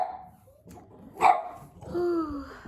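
A dog barks once sharply near the middle, then gives a drawn-out whine or yip, loud and close over a quiet room.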